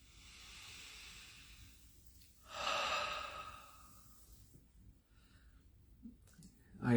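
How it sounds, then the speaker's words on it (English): A single deep breath, a soft airy inhale swelling to a louder hissing exhale in a quiet room, with faint clicks near the end. "deep breath"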